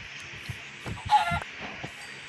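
A Minecraft chicken gives a few short, soft clucks in quick succession, fairly close and alone.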